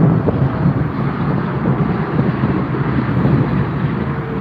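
A Qatar cargo Boeing 777 touches down at Frankfurt Airport: a broad, rumbling jet roar that holds steady throughout, mixed with wind buffeting.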